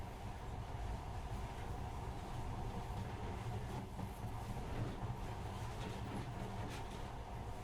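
Monorail train in Metro Last Light running along its track, a faint steady rumble and rolling hum with soft rattles, continuous throughout.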